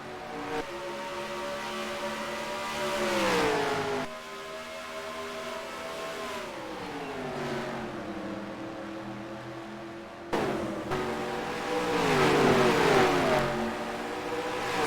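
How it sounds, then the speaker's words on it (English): Race cars in the NASCAR Racing 2003 video game scream past the pit camera, loud engine whines sweeping down in pitch in successive waves as each pack roars by, one after another with no pause. "There is the pit cam as all the cars fly past"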